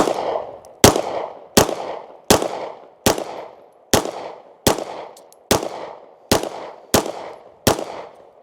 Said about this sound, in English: Well, let's see how it shoots. First shots.